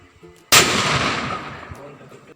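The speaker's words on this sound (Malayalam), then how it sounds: "ഞങ്ങൾ പടക്കം പൊട്ടിക്കാൻ തുടങ്ങി" A single loud firecracker bursts close by during Vishu celebrations, a sharp crack followed by a long rumbling decay, with faint voices in the background before the blast.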